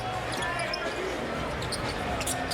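A basketball is dribbled during an NBA game between the Minnesota Timberwolves and Milwaukee Bucks, with faint bounces buried under commentary and crowd noise in a large arena.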